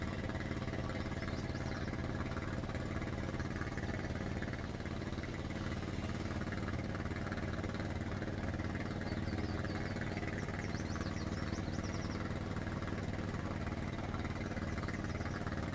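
A tractor engine in Farming Simulator 19 idles continuously with a low rumbling drone and slight mechanical vibration, constant in level throughout, with no talking.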